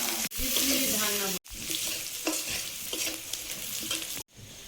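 Black cumin seeds and chopped onion frying in hot oil for a bele fish kasundi dish, with a bright, loud sizzle and scraping stirs, broken by a few abrupt cuts.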